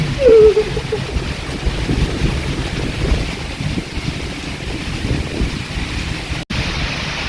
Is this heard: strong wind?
yes